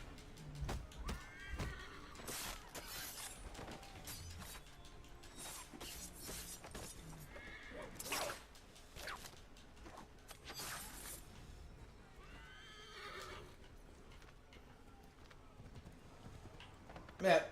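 Horse hooves clip-clopping in Assassin's Creed III, with an occasional neigh and brief game effects, fairly quiet and intermittent beneath someone talking.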